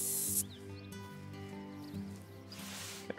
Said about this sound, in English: It wouldn't hurt if we threw on some spray